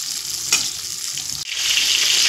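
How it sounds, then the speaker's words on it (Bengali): Moong dal frying in a little oil in a kadai, a close continuous sizzle with a faint stirring scrape partway through, the sizzle swelling slightly louder toward the end. "আর এই তেলের মধ্যে দিয়ে দেব মুগ ডাল। মুগ ডালটা একটু ভেজে নেব।"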